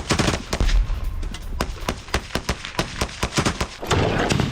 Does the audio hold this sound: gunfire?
yes